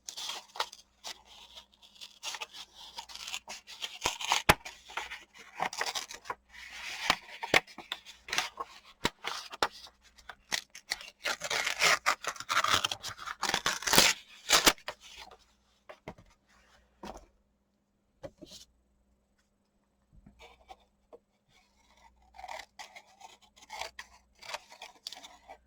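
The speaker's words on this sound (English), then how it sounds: "I'm going to trim that down a little bit." Scissors snip and trim paper for an artist trading card in quick bursts of crisp cuts and rustling, close and fairly quiet, with pauses and a near-silent stretch before a few more snips.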